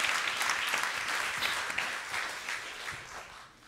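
An audience claps steadily, a dense wash of applause that gradually fades toward the end.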